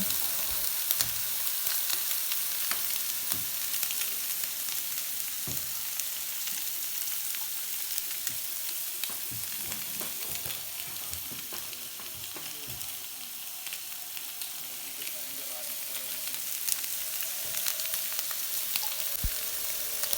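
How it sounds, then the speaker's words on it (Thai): Vegetables, pork, shrimp and squid sizzle steadily on a hot grill for a barbecue-style meat dinner, a dense continuous crackle with scattered sharp pops, close and fairly loud, with no talking. "เตาร้อนแล้วเอาผักใส่ลงไป เอาหมู เอากุ้ง เอาเออปลาหมึกย่างลงไปนะคะ"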